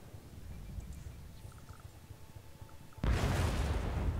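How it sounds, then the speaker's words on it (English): A distant explosion in the SimCity game, a sudden loud broadband burst that cuts in after a few seconds of low rumbling city ambience. "Another freaking explosion in the background."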